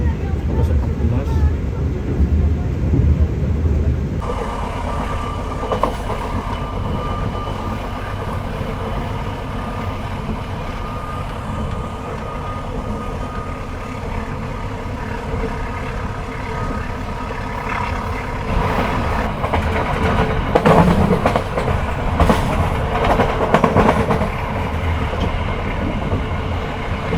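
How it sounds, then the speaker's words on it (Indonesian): Taksaka passenger train racing through Jatibarang station at around 115 km/h without stopping, heard from on board as a loud, continuous rumble with rattling wheel clatter and a brief shift in tone as the station passes. "saat ini kereta api Taksaka melintas langsung stasiun Jatibarang"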